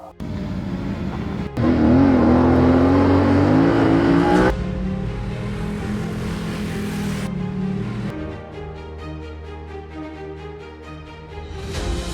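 A car drives along a dirt mountain road, its engine loud and rising as it passes close by, then fading into a steady rumble before a second vehicle approaches.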